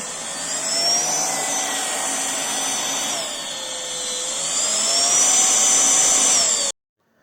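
A Tefal X-Force Flex 8.60 cordless stick vacuum whines steadily up close, its motor pitch dipping and rising as it moves, then cutting off abruptly near the end.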